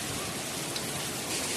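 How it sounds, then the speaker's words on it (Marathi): Heavy pre-monsoon rain pours over a rural farm where raw mangoes were just picked, a steady, dense hiss with no voices, moderately loud and unbroken throughout. "या किती जोरात पाऊस येत आहे."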